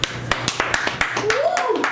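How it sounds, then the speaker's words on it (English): A small group of people claps in a church or sermon setting, with sharp, irregular hand claps close by and someone talking and calling out over them. "clap it up for this brother"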